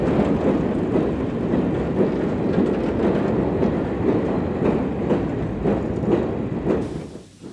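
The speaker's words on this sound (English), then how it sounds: "Locomotives, perhaps not the cleanest, hustle back and forth with regular, ordinary, everyday trains" Rolling train rumble with rhythmic clickety-clack of wheels over rail joints, recorded from a 1930s LNER line of ordinary steam-hauled trains; loud and continuous with no talk, tailing off abruptly at the end.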